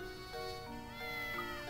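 A cat meows in the video game Professor Layton and the Curious Village, a short game-audio mew rising over steady background music, moderately loud and close, with no talking.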